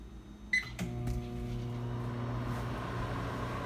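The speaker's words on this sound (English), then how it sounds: "We have our microwavable container going into the microwave." Microwave oven melting soy wax in a container, a click and short beep at the start, then a steady low electrical hum with a faint rattling fan that carries on unbroken.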